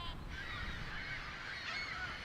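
A large flock of migrating birds, including warblers, ibis, cranes and herons, calls steadily overhead, a dense wash of overlapping honking and chattering cries over a low rumble of wind or background noise.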